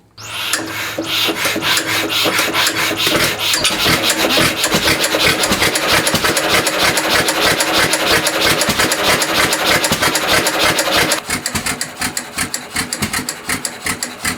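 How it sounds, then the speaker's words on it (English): A single-cylinder gasoline donkey engine chugs in a rapid, steady rhythm of loud rasping beats, running close by for the whole stretch. "a single-cylinder gasoline-fired engine, more commonly known as a donkey engine"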